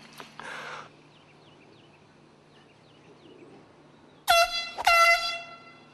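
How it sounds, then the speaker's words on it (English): Loud air horn blasts from a golf course prank, two long harmonic honks in quick succession after a quieter stretch of outdoor ambience with faint birdsong. "the victims of the golf course air horn stunt"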